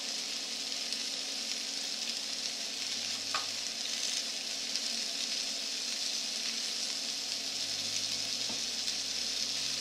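Vegetables sizzling in a hot pan, a steady close crackle and hiss running throughout, with an occasional faint clink of a utensil.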